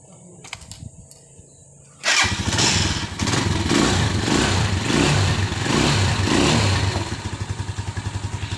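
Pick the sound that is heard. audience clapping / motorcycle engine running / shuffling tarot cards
motorcycle engine running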